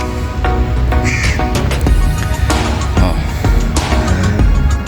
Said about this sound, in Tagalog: Yan na may uwak yun oh